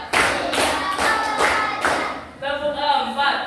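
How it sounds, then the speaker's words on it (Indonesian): A classroom of primary pupils claps together in counted sets, sharp group claps in short bursts with pauses between, followed by a few children's voices. "Tepuk satu. Tepuk dua. Tepuk tiga. Tepuk empat."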